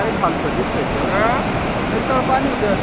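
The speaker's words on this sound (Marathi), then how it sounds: "आज त्याची क्षमतेप्रमाणे फुल क्षमतेने आज ओझरखेड धरणाचा प्रवाह आहे" Water discharged from Ozarkhed dam runs at full capacity, making a loud, steady broadband roar. A voice talks over the rushing flow.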